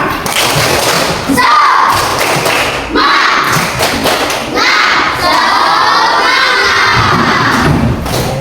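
A classroom of children doing a rhythmic spirit clap, loud patterned thumping claps with excited shouts and cheers rising between them, close and energetic throughout.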